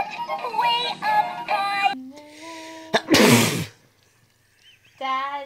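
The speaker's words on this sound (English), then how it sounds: "Daddy sneezed it out" An adult man sneezes once, a sudden loud burst set between stretches of bright sung children's melody and toy-like tones, followed by a brief quiet gap.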